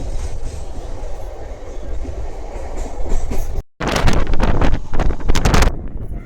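A Visakhapatnam MEMU passenger train on the Rajahmundry to Visakhapatnam run rumbles loudly and steadily with wind buffeting, then after a brief dropout returns with sharper rattling clatter of the cars.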